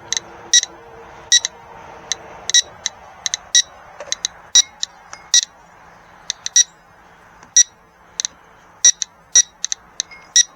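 Sharp electronic beeps and clicks from a Geiger counter measuring orange juice, irregular and quick, sometimes in short bursts, over a faint background hum.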